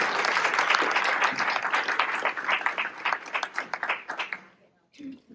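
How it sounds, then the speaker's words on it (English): Applause for elected officials at an Oak Park clean energy community event: a dense, loud crowd clapping that holds steady, then thins into scattered claps and stops after about four and a half seconds. "One more round of applause for all our elected officials."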